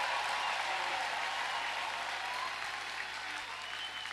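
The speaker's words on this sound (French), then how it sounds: "Clap for the Lord Jesus." A congregation at an all-night prayer vigil applauds steadily and fairly loudly, the dense clapping of a large crowd running without a break.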